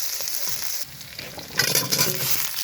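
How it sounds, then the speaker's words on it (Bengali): Chopped onion and green chili fry in oil in a pan, giving a crackling sizzle with stirring scrapes. The sizzle flares louder about halfway through the short stretch, with no voices. "এবার কেটে রাখা একটু পেঁয়াজ, ঝাঁচা মরিচ ভেজে নিব আগে।"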